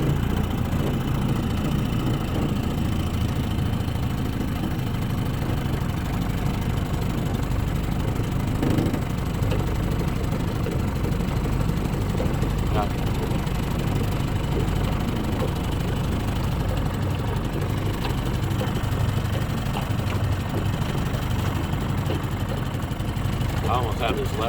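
A vintage 22hp Mercury outboard motor, either a 1961 model 200 or a 1958 Mark 28, idles in a steady low running drone with no letup, while people talk over it.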